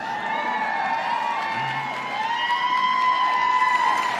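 Audience at a book launch for a memoir, cheering and whooping steadily with crowd noise and some clapping, a sustained, fairly even wash of voices throughout.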